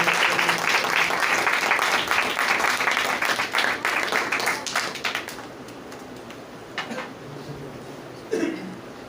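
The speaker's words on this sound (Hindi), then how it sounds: "जोरदार तालियां यीशु के जलाल के लिए बजा दीजिए" A church congregation applauds during a worship service, dense, steady clapping from many hands filling the room for several seconds before thinning out, with a brief voice near the end.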